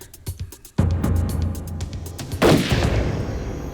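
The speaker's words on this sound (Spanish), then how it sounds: "Los agentes en el auto oyeron disparos" Gunshots from a man firing at a roadside stop sign: a few sharp cracks, then two loud, heavy blasts a couple of seconds apart, each followed by a long echoing rumble. Nearby and loud, with no voices.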